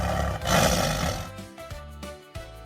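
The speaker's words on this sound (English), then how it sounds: "Who roars like this?" A tiger lets out a loud, rough roar that swells and then fades, followed by a few shorter grunting bursts, close and alone with no talking.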